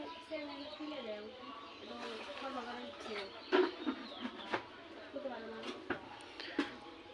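Pigeons cooing at a sunny morning feeding spot, soft low coos and a few sharper calls and flutters, heard fairly faintly beneath a person talking nearby.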